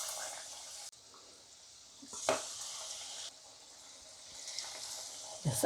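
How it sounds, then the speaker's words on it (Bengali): Battered stuffed chilies deep-fry in hot oil with a steady, loud hissing sizzle, broken by a few bubbling bursts and splashes as pieces are turned. "এবার ব্যাটারটা দিয়ে, আমার তেলটাও গরম হয়েছে, আমি ভাজবো।"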